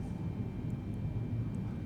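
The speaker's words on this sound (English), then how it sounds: "Engines full." Boeing 777 engines at full thrust in a flight simulator make a steady, dense low roar with a faint high whine, continuous and close, with no talk.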